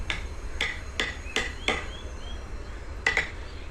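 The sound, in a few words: hammering while carving wood design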